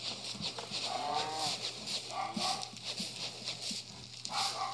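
Cows in the Minecraft video game low and moo in a few drawn-out calls, spaced over steady game background noise, with no talking.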